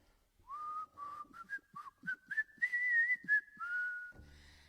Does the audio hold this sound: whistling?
yes